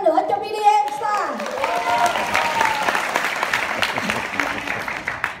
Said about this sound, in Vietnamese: một tràng pháo tay nữa cho BDM Star